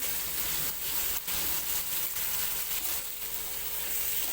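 Partly cooked drumstick pods fry in hot oil, a steady, close crackling sizzle with faint periodic pulses and a brief dip, continuing unbroken throughout.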